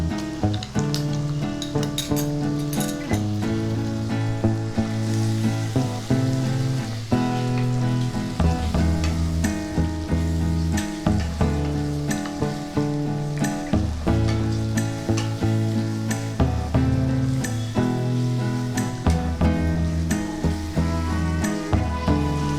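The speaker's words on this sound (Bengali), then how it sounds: "পেঁয়াজটা একটু লাল করেই ভাজবো" Onion fries in a pan for a chicken bhuna masala, giving a constant crackling sizzle throughout under steady background music.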